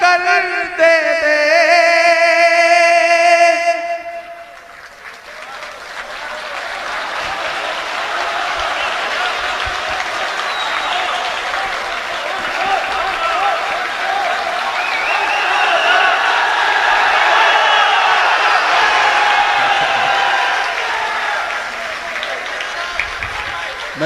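After a few seconds of a voice, an audience at a poetry recital breaks into sustained applause, a dense steady clapping that swells and continues for about twenty seconds.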